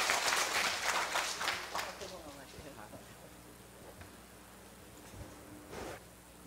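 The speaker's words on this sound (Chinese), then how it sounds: "感谢甲鼓掌一下。" Audience applause at a formal assembly meeting, a burst of clapping that is loudest at the start and fades over several seconds, with talk heard underneath.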